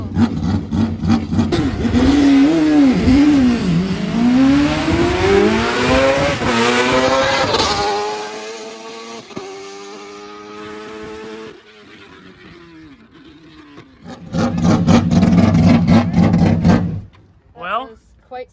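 A four-rotor race car engine on a dyno revs hard through rising pitch sweeps, drops to a steadier drone, then roars loudly again before cutting off; voices react in between.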